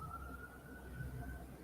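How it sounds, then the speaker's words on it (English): Police sirens wailing faintly in the distance, a steady high tone held under a low background hum. "I can hear the sirens."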